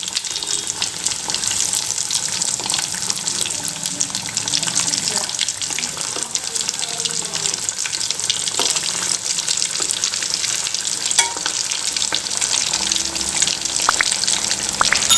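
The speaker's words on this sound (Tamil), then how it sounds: "இப்போ இது நல்லா ஃப்ரை ஆகட்டும்." Food sizzles steadily in oil in a pan, a continuous crackling hiss with occasional pops that stays close and fairly loud throughout, with no talking.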